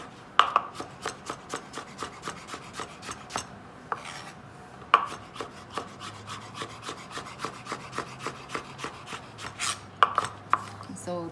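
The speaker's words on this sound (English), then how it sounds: "Do the same, split it in nice even chunks." A knife chops three small young squash into even chunks on a cutting board, a steady series of sharp, close, evenly spaced thuds with no talking.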